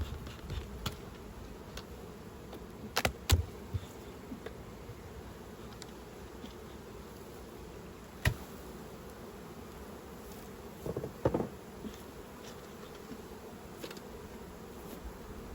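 Bees hum in a steady, faint, continuous drone around an opened beehive as it is reduced from a triple to a double in autumn, with occasional soft knocks of hive parts.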